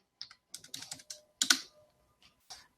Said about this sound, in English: I'm going to go ahead and type my answer in.